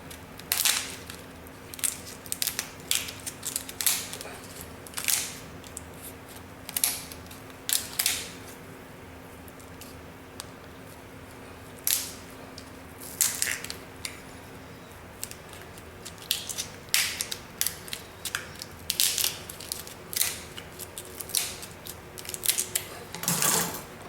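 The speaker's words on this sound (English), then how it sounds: "You just want to cut down each side next to these spiky bones on the tail here" Kitchen scissors cut down each side of a lobster tail shell, giving a long run of crisp, irregular snips and crunches, close and loud, with short pauses between bursts and no talking.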